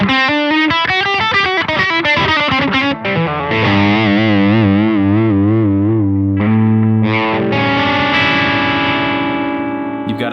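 Electric guitar played through an effects pedal with a distorted, chorus-like colour, ringing chords and sustained notes in a loud, continuous run with no talking.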